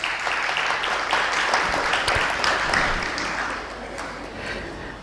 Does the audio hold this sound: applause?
yes